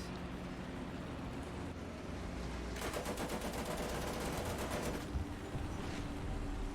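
Gunfire strikes a Type 89 tank in War Thunder, a dense burst of rapid shots rattling loudly over steady engine rumble for a couple of seconds, then fading back to the drone.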